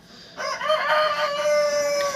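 A rooster crows in one long, drawn-out call, close and fairly loud, over a faint farmyard background of Cochin chickens.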